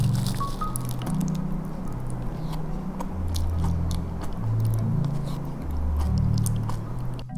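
Crisp bites into a pistachio Dubai dessert layered with pistachio mousse, white chocolate ganache and a thick base of toasted kadaif, giving close, repeated crunching and chewing with wet squishy textures over steady low background noise.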